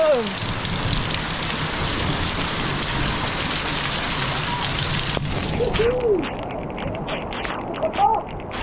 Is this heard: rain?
yes